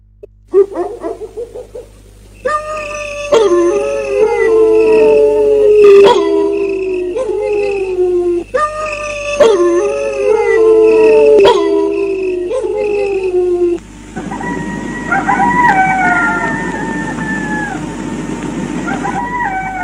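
A dog in an animated cartoon based on a Ukrainian folk tale howls in long, wavering, rising and falling cries, repeated loudly in several drawn-out phrases with sharp hits between, then a shifting mournful wail near the end.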